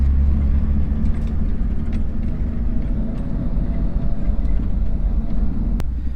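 A Toyota FJ60 Land Cruiser, with its front drive shaft removed, drives along with a loud, steady low rumble of engine and road noise from inside the cabin, with a few faint rattles.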